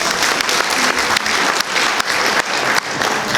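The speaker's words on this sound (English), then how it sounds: "How about some applause for belly claps?" Loud, full applause from a theatre audience at a comedy evening, many hands clapping densely and continuously for a few seconds with a light crowd murmur underneath.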